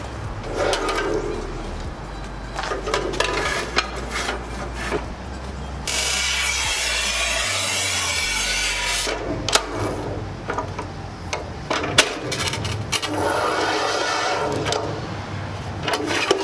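A Razor by RTC manual tile cutter scoring and snapping a large porcelain tile, giving steady rubbing and scraping with a sharp break in the middle, loud and close, with no talk.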